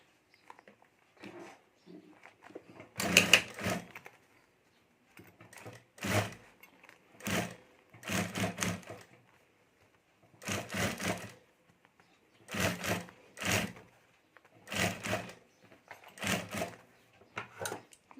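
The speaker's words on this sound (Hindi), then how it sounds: "और अब यहाँ ऊपर हमें सिलाई कर देनी है" A sewing machine stitches fabric for a homemade clutch bag in short repeated bursts of rapid needle chatter separated by pauses, close and clear with little else around.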